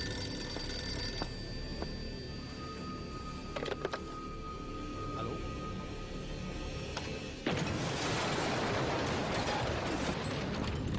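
A telephone on a small bedside table in a film about the Munich assassinations rings with brief bursts, then a bomb hidden beneath it explodes in a sudden, loud, sustained roaring blast.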